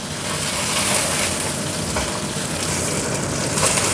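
Fish frying in a pan in a home kitchen in Taiwan, a loud, continuous broadband sizzle of hot oil that holds steady throughout with no talking.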